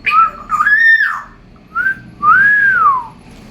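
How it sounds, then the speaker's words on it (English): An African grey parrot whistles a few clear, sliding notes, some rising and some falling, with short pauses between phrases, close and loud against a quiet room. "Momma is whistling."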